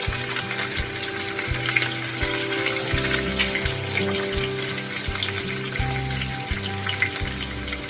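Potatoes stir-fried in hot oil in a home kitchen for a Bengali green papaya and potato dish, with a steady close sizzle, occasional stirring scrapes and a low tonal hum underneath.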